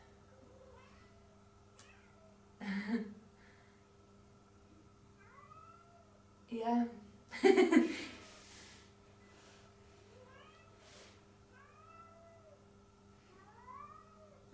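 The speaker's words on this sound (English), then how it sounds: "My cat is making a lot of noise." A pet cat meows repeatedly outside, wanting to be let in, with several loud, drawn-out cries and a few softer calls over a steady indoor hum; someone briefly says a word.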